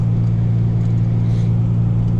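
Car driving too fast on a snowy road, heard as a loud, steady low engine drone with a strong humming tone and no breaks throughout, the roar staying constant and close.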